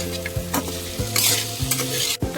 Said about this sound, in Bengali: এখন আমি মশলার সাথে ভালো করে এগুলিকে কষিয়ে নেব।